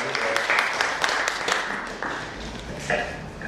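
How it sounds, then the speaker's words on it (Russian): Light audience applause at an agricultural fertilizer presentation, a loose patter of scattered individual claps of moderate loudness with some faint voices mixed in underneath. "Можем немножко аплодисментов."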